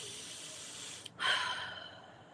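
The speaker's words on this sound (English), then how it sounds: "Take a deep breath in." A single deep inhale drawn through the nose during a quiet meditation session, soft and close, rising briefly before trailing off into a faint exhale.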